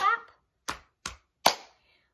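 A short burst of a voice, then three separate percussive hits a teacher makes by patting the lap and clapping the hands in a classroom music lesson, close and crisp with silence between them.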